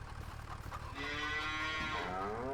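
Cows mooing in Farming Simulator 25, a single long low bellow that swells and holds steady, fairly close and alone with no talking.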